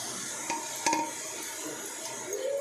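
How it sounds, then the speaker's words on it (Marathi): Grated carrots being sautéed in ghee for gajar halwa, a soft low sizzle with a few light utensil clinks and scraping stirs against the pan, fairly quiet and close. "आता मी गाजर टाकून घेते. गाजर चांगले तुपामध्ये परतून घ्यायचे."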